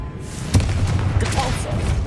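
A Confringo fire-blast spell bursting in Hogwarts Legacy, one sharp impact followed by a rumbling, crackling fiery tail lasting about a second and a half, with a voice speaking over it.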